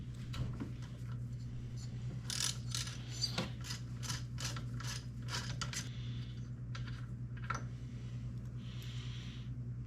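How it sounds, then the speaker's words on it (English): Spark plugs being unscrewed from a 1971 Arctic Cat snowmobile after sitting over fifteen years: a close series of quick metallic ratchet clicks and small tool clinks over a low steady hum. "we'll go ahead and pull these plugs out and see what they look like"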